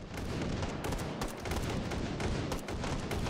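Gunfire and blasts in the VR shooter Hot Dogs, Horseshoes & Hand Grenades after a grenade is thrown, a dense rolling barrage of cracks and booms, loud and continuous with no voices.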